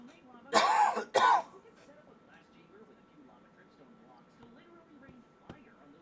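Two loud, harsh coughs come in quick succession near the start, followed by quiet room tone with faint shuffling.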